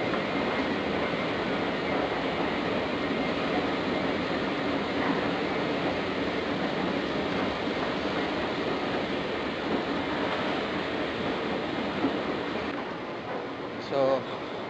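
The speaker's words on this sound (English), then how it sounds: "the train going to Beitou" Taipei MRT Red Line train heading to Beitou, a steady rumbling rail and ventilation drone at the platform, continuous and fairly loud, easing slightly near the end.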